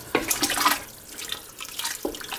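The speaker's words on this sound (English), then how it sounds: "I need to put some more water in there" Water pours in short splashing bursts into a pot, starting and stopping a few times, close and fairly loud.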